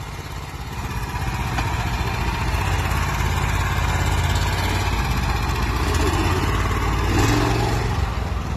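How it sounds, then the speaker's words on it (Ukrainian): A tractor engine runs at a steady, loud idle-like rumble throughout, close by and unbroken, with no talk over it. "До речі, Вова, кажуть, і автівка витягував з багнюки цим трактором."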